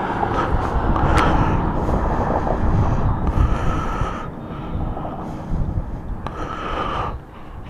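Strong, steady wind at the California Aqueduct buffeting the microphone with a loud broadband roar, gusting and easing briefly in places, no voices.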